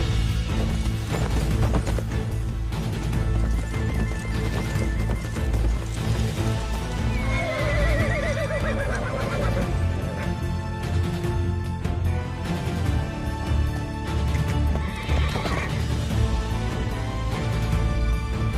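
A horse whinnies twice in a film scene, with clip-clopping hooves and a dense mix of music and ambient sound running loudly underneath.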